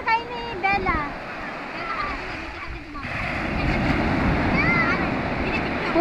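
Ocean waves break and wash onto the shore in a broad steady roar, with wind buffeting the microphone and children and adults chattering over it.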